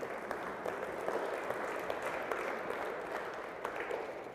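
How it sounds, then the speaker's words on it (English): A congregation applauds during a Sunday church service, a steady dense wash of many hands clapping that stays even in level for the whole stretch, with no talking over it. "So can we give it a round of applause?"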